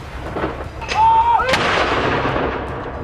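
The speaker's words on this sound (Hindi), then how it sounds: "क्वीन 96 साल की थी, इसलिए उन्हें हर साल के हिसाब से 96 राउंड की फायरिंग के साथ गन सैल्यूट दिया गया।" A single ceremonial artillery round from the 96-round royal gun salute for Queen Elizabeth II booms out loud and near, its rumbling echo lingering outdoors after a brief thin whistling tone, with no voices.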